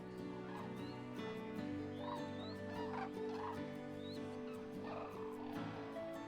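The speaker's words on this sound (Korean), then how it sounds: "때묻지 않은 자연 속에서 한가롭게 시간을 보내는 두루미들." Cranes calling in a winter wetland, with repeated short bugling cries scattered across the clip, moderately near, over a steady background hum.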